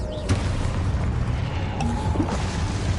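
A spell blast from the Expulso curse in Hogwarts Legacy, a muffled boom within ongoing combat noise, with a couple of sharper bursts rising over a dense, rumbling background.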